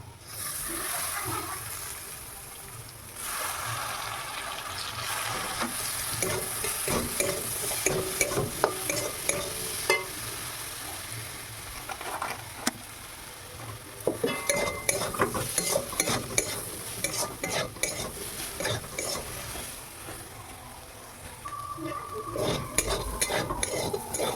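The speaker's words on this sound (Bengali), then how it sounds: "দেওয়ার পরে নাড়াচাড়া করে নেব।" A potato and fenugreek curry (methi aloo) being stirred in a pan, with steady scraping and a soft sizzle that carry through the whole stretch, alternating busier and quieter spells with no talking.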